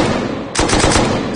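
Gunfire in Rust, a loud, close burst of rapid shots that kicks in after a brief stretch of dense background noise and keeps rattling to the end.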